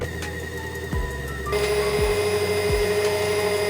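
Electric hand mixer beating frosting of vanilla essence and icing sugar, a steady motor whine with a speed change partway and a few low bumps against the bowl.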